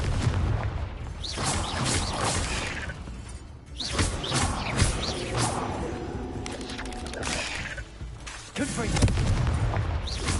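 Spell combat in the Hogwarts Legacy game, with repeated booming blasts and crashing impacts from the Confringo explosion spell, dense and loud throughout and mixed with shouted voices.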